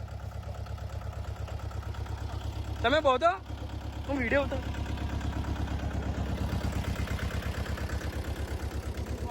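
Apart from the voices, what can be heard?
Mahindra mini tractor engine running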